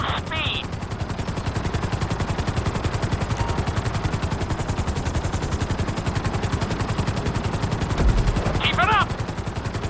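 A helicopter flies a flight-school course in Grand Theft Auto 5, its rotor beating in a fast, steady pulse throughout, with brief voice chatter and a short thump near the end.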